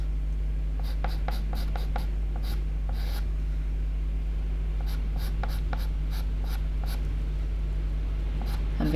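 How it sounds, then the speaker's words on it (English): A pastel pencil scratches across paper already coated with soft pastel while an owl's wing is being drawn, in short, close, repeated strokes over a steady low hum. "it's very easy just to come along with the pastel pencil and darken these areas down"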